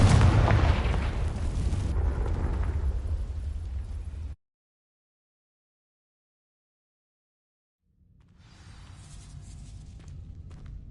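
A Confringo fire spell in Hogwarts Legacy sets dry vines alight with a loud, roaring burst of flame and rumble that lasts about four seconds, then cuts to silence before a quieter crackling swell returns.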